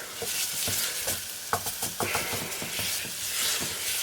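An enchilada sauce mixture being stirred in a pan, with repeated close scraping strokes of the utensil over a soft, continuous sizzle, no voices.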